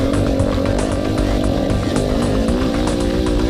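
An enduro motorcycle engine buzzes loudly and close on held throttle while riding over forest trail roots, its pitch wavering slightly as the revs rise and dip, with clicks and bumps scattered through the steady drone.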